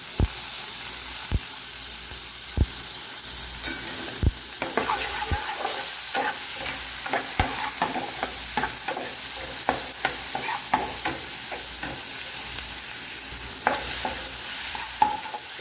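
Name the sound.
tomato and pepper frying in a pan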